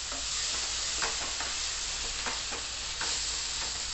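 Shahi paneer curry sautéing with a splash of water in a pan gives a steady, close sizzling hiss, with soft stirring scrapes recurring about every half second and no voices.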